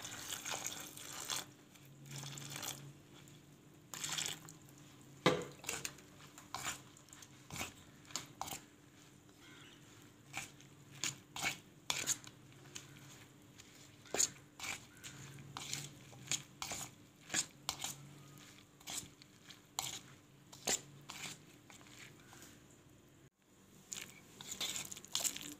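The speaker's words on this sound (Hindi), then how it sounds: "अब पानी डालकर अच्छी तरह मिक्स करें।" Wet, irregular squelches and clicks as water is stirred into a potato and spinach pakora batter by hand, close and quiet with short pauses between strokes, no talking.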